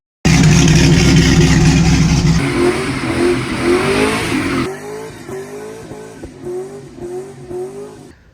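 Car with a cammed 4.8 LS V8 roars loudly at high revs, drops to a lower pitch, then settles into a choppy, lopey idle pulsing rhythmically close by.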